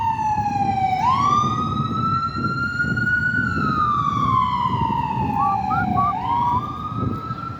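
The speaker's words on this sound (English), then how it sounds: "Finally turned on the siren." An emergency siren wails loudly as its rising and falling tone sweeps slowly and then steps into a quicker warble, with a low vehicle rumble beneath and no talk.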